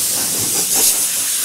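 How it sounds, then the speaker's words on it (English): A compressed-air blow gun hisses steadily while clearing debris during tire mounting on a 20-inch double bead lock LMTV rim, a loud continuous rush of air with a slight swell midway. "So we're going to take an air gun. I'm just going to blow it all off."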